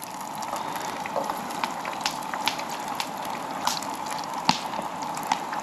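Batter-coated chicken balls frying in a pan on a camp stove outdoors in the mountains, a steady soft sizzle and bubble with scattered pops and spits throughout.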